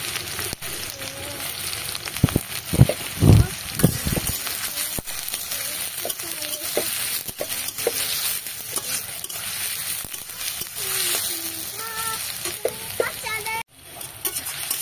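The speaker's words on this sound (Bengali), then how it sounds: "এবার পেঁয়াজ কুচিগুলো দিয়ে নেড়ে নেব।" Chopped onions hit hot oil with black cumin for a cabbage bharta and sizzle loudly and steadily, while a spatula stirs and scrapes the pan repeatedly up close and a voice speaks briefly.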